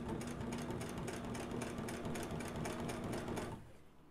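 Sewing machine running a seam on a leather envelope bag, a fast, loud, close mechanical rattle of rapid needle strokes that stops abruptly near the end.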